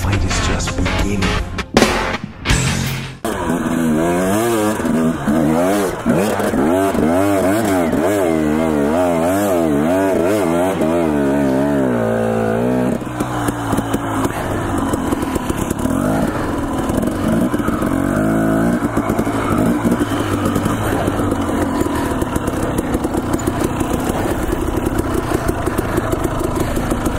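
A two-stroke enduro motorcycle on hard trails near Emmett, Idaho revs loud and close, its engine note rising and falling continuously with sharp throttle blips, no talk over it.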